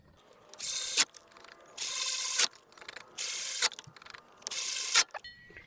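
A hand ratchet tightens bolts on a Land Rover Discovery during a transmission install. Four close, rasping clicking runs of about a second each alternate with short pauses and small clanks.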